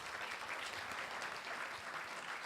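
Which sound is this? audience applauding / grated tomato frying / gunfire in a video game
audience applauding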